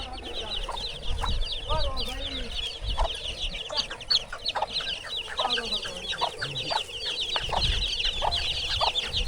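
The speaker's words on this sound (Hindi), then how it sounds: "मुर्गी आवाज़ें देती जा रही है" A hen clucks repeatedly over a busy village farmyard in Pakistan, with chicks peeping and other birds chirping steadily in the background, near Aseel-breed chickens.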